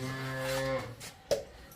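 A cow lows once in a long, steady moo on a dairy farm, close and clear, followed by a short scrape or knock.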